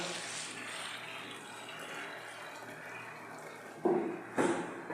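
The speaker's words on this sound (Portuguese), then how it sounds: "Vou colocar aqui a água." Water pours steadily into a mortar mix being prepared for a stone-effect wall, a continuous hissing splash followed near the end by two short, louder sloshing bursts.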